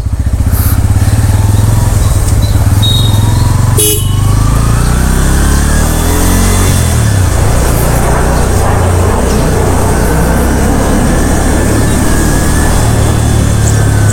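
A Bajaj Pulsar N160 FI ABS motorcycle with a suspected throttle position sensor RPM fault is ridden along a road without mirrors, its engine droning loudly and steadily up close with shifting pitch and rushing wind noise.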